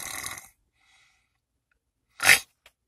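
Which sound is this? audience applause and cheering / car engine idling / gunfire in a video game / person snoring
person snoring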